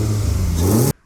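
A naturally aspirated Toyota 3SGE 2-litre four-cylinder engine runs at a steady, loud rising drone close by, then cuts off abruptly at the end.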